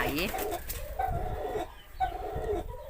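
Male spotted dove calling, a clear cooing phrase repeated about three times in quick succession, close and fairly loud, with faint voices underneath.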